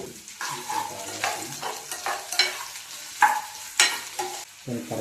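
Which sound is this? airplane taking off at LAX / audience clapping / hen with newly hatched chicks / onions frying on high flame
onions frying on high flame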